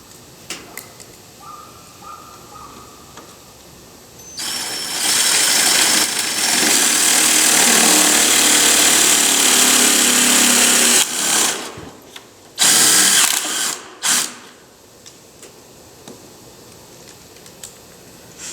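A power drill drives self-tapping metal screws into a whiskey barrel sink build, one long loud sustained whir followed by a short burst, close up with no talk.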